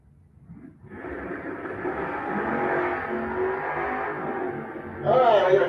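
Drag race launch at Gainesville Raceway with a 2000 S10 pickup in one lane: engines roar up loud and close from near quiet and hold a steady, sustained drone, with a louder surge near the end and an announcer's voice faintly underneath.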